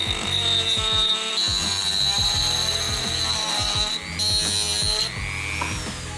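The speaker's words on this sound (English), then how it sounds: "The Dremel is perfect for this." A Dremel rotary tool whines at a high steady pitch while cutting old brake caliper pins on a Honda CB250 Super Dream, with a rapid rattling texture underneath and brief changes in tone near the end.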